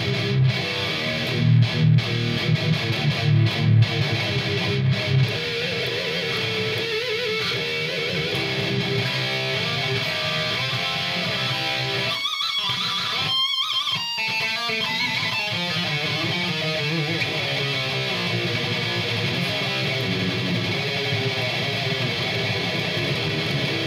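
Heavily distorted electric guitar with EMG 81 active pickups on a 24-volt mod, played through an EQ pedal set flat; dense sustained chords ring loud throughout, with a few sharp chugs early and a brief pause midway.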